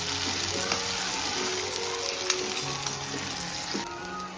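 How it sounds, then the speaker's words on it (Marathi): Tomatoes frying and softening in a pan for a wild-vegetable curry, a steady close sizzle with light stirring clatter throughout, no talk. "आता आपण टॅमॅटो ॲड करू. टॅमॅटो पण मस्त आपण सॉफ्ट होईल तोपर्यंत परतातो."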